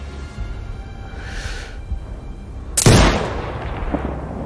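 A single loud, sharp sniper rifle shot rings out in the video game Sniper Ghost Warrior Contracts 2 over a low ambient background. It cracks suddenly and fades with a short rumbling tail.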